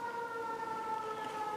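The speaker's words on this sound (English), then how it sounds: "It is smoky and I'm hearing sirens." An emergency vehicle siren sounding nearby amid wildfires, a steady wailing tone with harmonics held at moderate, fairly distant level over low background noise, with no talking.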